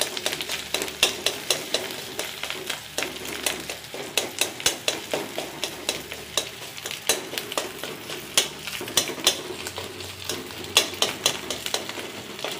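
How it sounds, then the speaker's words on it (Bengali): Fish roe scrambled and stirred in a hot pan, with a steady close sizzle of frying broken by rapid, repeated scraping and clinking of a utensil against the pan, no talking. "মাছের ডিমগুলো ঝুড়া করে নিয়েছি।"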